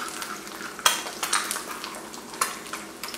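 Eggs fry in bacon grease in a pan, a close crackling sizzle punctuated by sharp spatters and a few light utensil clicks, busy and uneven over a few seconds.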